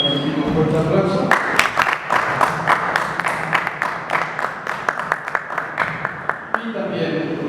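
An audience at a book fair applauds the moderator, a burst of clapping that begins after a voice, with distinct near claps standing out from the crowd, then gives way to talk again.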